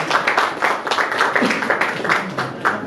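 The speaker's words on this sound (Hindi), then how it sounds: "एक जोरदार तालियों से स्वागत है" An audience at a theatre award ceremony applauds to welcome the chief guest, a dense, steady burst of clapping that fills the hall, with some voices mixed in.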